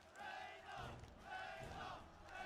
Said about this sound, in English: Oh, the crowd.